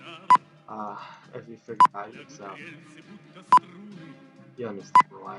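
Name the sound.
beeping from the video game Crisis in Kremlin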